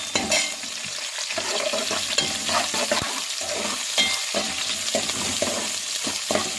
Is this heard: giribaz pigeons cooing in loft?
no